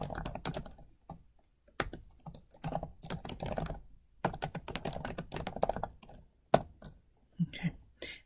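A computer keyboard clatters under fast, close typing in irregular bursts separated by short pauses, as a message is typed into a design layout in Canva.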